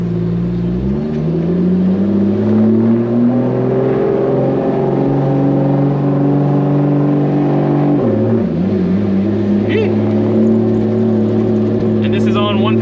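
A BMW E30 fitted with a turbocharged 2JZ engine and dual-clutch transmission, running on 1 psi of boost, pulls away and accelerates, its engine note climbing through a gear change in a loud, steady interior drone.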